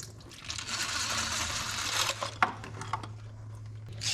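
Coolant pours and splashes steadily out from the removed water pump of a 1996 Nissan 300ZX, a close liquid rush over a low hum, with a few drips and small knocks near the end.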